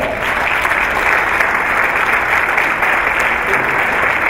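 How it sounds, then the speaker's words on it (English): An audience at a school district address breaks into sustained, even applause that fills the room for several seconds without letup. "yes, that deserves a round of applause."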